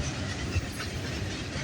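Canadian Pacific freight train 119, bound for Edmonton, Alberta, rolls past as its last cars go by, a steady close rumble with wheel clatter throughout.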